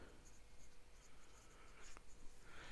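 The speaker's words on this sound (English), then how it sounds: "this is a broader nib, so it will put down a broader line" Broad, fairly wet nib of a Leonardo Momento Zero Hawaii fountain pen writing on paper, giving a faint, continuous soft scratch with a few slightly firmer strokes, close and quiet with no voices.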